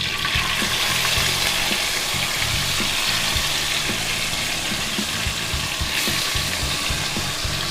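Chicken frying loudly in a hot pan with curry leaves for a village-style chicken gravy, a dense, steady sizzle close up with rhythmic scraping of stirring beneath it.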